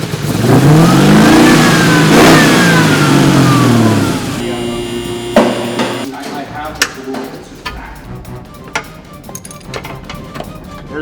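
A 1967 Chevelle SS engine revs loud and close, pitch sweeping up and down through several strong pulls over about four seconds, then dropping to a rougher idle with clanks and scattered knocks.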